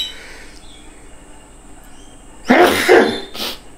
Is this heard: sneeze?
yes